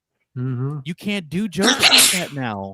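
Casey sneezes once, a sharp, loud burst in the middle of a casual panel conversation, with voices talking just before and after it.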